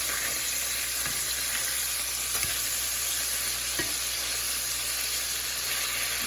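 Cheeseburger patty slow-frying in a pan, a steady close sizzle with occasional light pops and faint scraping, no talk.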